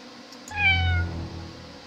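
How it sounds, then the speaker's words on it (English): An enormous cat in the video game Frankenstein Master of Death lets out one clear, drawn-out meow, close and moderately loud against a low background hum. "What an enormous cat."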